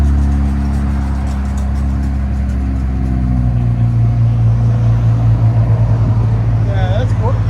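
An Infiniti Q60 3.0-litre twin-turbo V6 idles with its exhaust valves closed, a loud, deep, steady drone close by that rises slightly partway through, with brief voices near the end.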